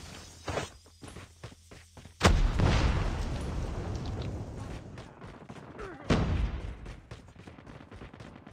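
Call of Duty Mobile gunfire from an AGR 556 rifle: a burst of rapid shots comes first, then two loud, sharp blasts with rumbling decay, mixed with game sound and faint voices.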